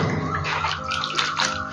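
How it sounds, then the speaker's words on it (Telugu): A large bunch of leafy greens is swished and sloshed in a basin of water, a brief close splashing and trickling burst with no talk. "దీన్ని ఒక 2 టైమ్స్ బాగా వాష్ చేసుకుందాము"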